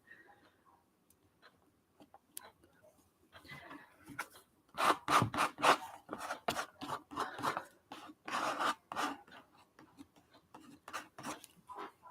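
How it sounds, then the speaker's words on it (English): Bondo body filler is worked with a palette knife and a plastic spreader, giving quiet scraping and smearing strokes in an irregular series, soft at first and then firmer, close to the microphone. "I'm just spreading this with the palette knife and then using the Bondo spreader to smoosh it down smooth"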